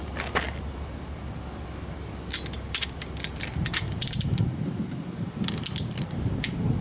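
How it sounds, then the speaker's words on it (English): Ratchet wrench clicking in bursts while torquing head bolts on a small block Chevy 350 engine in a budget build, close and sharp, several quick pawl-click runs separated by short pauses. "So we're gonna go ahead and torque these down now."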